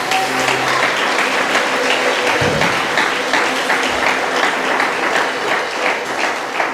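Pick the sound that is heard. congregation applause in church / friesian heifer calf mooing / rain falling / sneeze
congregation applause in church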